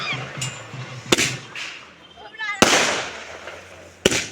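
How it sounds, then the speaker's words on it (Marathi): Firecrackers burst in sharp, loud cracks at intervals, with a few fainter pops and a whistling rise between them, against a quiet outdoor background. "फटाके फुटताय मित्रांनो एकदम खतरनाक"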